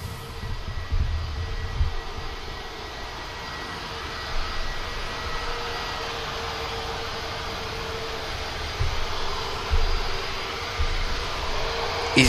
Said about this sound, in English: Ryanair just touching down from Milan